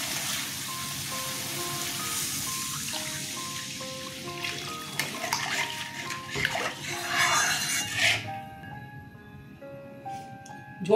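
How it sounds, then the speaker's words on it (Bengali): Water is poured into a pan of pineapple katla fish curry after the spices are fried down, a broad steady rushing hiss over cooking noise that fades out near the end. "এবার জল দিয়ে দিচ্ছি।"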